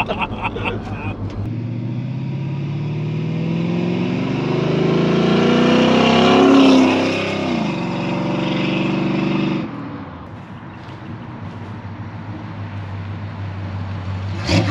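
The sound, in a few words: Pontiac Firebird car engine driving uphill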